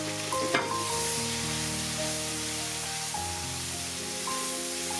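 Chopped tomato hits a hot pan for chana dal and sizzles loudly and steadily up close, with stirring scrapes and no talk.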